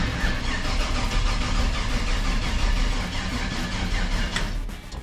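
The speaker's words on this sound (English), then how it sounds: "Let's try to crank this thing." A 1968 Chevy C20 pickup engine cranks on a weak battery without catching, a steady, loud churning drone that runs throughout.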